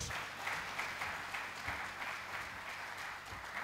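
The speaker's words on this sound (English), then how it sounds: "A round of applause for our president." Steady applause from a large crowd at the Nigeria Diaspora Investment Summit 2018, a dense wash of clapping for the president that holds at an even level throughout.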